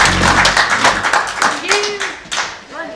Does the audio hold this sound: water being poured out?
no